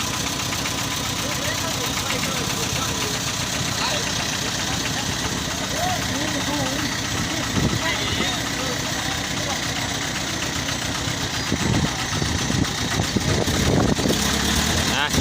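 A steady tractor engine idles throughout with a rough, knocking rumble, while people talk over it and a few louder clanks break in near the end.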